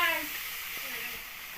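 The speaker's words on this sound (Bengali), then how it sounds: "তো কচুগুলো ওদিকে ভাজা হচ্ছে" Taro pieces fry in oil in a pan for a Bengali village dish, a steady soft hiss and sizzle, faint and continuous, with a voice heard briefly at the start.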